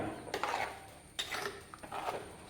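A spoon stirs a tempering of chillies, curry leaves and onion into a lentil and raw plantain curry in a pot, three faint scraping, clinking strokes spaced about a second apart in a quiet kitchen.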